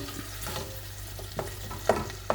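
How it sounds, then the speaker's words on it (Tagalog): Chicken marinated in oyster sauce sizzles steadily in a hot pan, with a few scraping stirs and light taps of a utensil standing out near the end. "Then ako nang gihulog ang chicken. Gamay ra si atong i-mix very slight. Nya, ipaluto na itong konti."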